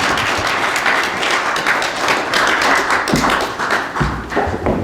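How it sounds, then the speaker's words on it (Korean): An audience at a Korean political forum claps to welcome a speaker, a dense, loud burst of applause that runs continuously throughout, close and full, with no talking. "박수로 모시겠습니다"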